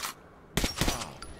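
Gunfire at a shooting range in the video game Metro: Last Light, with a brief burst of shots, a short pause, then a louder, denser volley of rapid shots up close.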